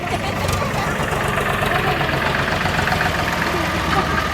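A tractor engine idles with a continuous loud, rough mechanical drone, close by and unbroken, while people talk over it.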